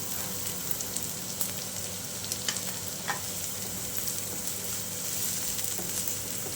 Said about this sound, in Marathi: आता यामध्ये कांदा घालून घेऊया